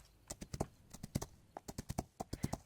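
Hooves gallop in the video game Rival Stars Horse, a fast, uneven run of sharp, close clip-clop strikes in quick clusters with no voices over them.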